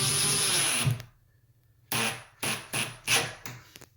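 A small-headed cabinet screw is driven at an angle into a pre-drilled wooden joint during a pantry renovation, the driver used one-handed: several short, close bursts of a power driver after a brief quiet gap.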